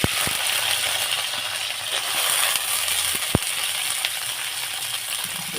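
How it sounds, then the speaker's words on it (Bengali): Green beans frying in a pan with a pinch of cumin, giving a steady broadband sizzle throughout with a few sharp clicks of a utensil against the pan. "একটু ভেজে নেব, বিনসটা।"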